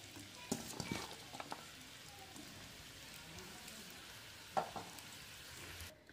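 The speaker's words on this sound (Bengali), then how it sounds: "একটা কড়া বসিয়ে দিয়েছি, আমার তেল গরম হয়ে গেছে, ওর মধ্যে কেটে রাখা পেঁয়াজটা দিয়ে দিলাম।" Sliced onions fry in hot oil in a wok for crisp fried onions for egg biryani, giving a soft continuous sizzle with a few utensil knocks and scrapes, faint and close, with no talk.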